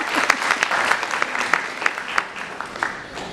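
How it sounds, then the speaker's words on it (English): An audience at a business panel event applauds, a dense wash of many hands clapping close and loud, with a few sharper individual claps standing out over the steady roar. "You give him applause."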